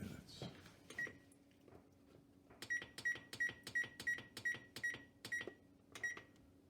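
A kitchen timer is set to 8 minutes while corned beef and cabbage cook. About eight quick, evenly spaced electronic beeps come from close by at a modest level, with faint kitchen handling noise before them.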